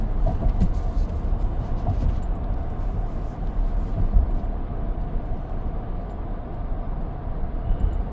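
A car drives along a Polish highway at about 140 km/h, giving a constant loud rumbling road and engine roar with tyre noise and no other sounds breaking through.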